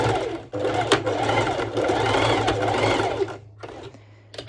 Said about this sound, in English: I'm going back to my normal sew machine and I will be doing again this straight stitch over to secure